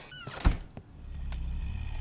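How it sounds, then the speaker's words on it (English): A door in the horror video game Pacify opens with a sharp thunk and a short creak, then a low rumbling drone swells and holds beneath it, with no speech. "That door opened."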